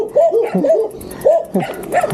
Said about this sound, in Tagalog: Dami mga aso dito, dog country.